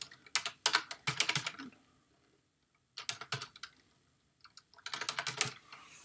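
Quick typing on a computer keyboard, close and fairly soft, in three short bursts of rapid key clicks with quiet pauses between.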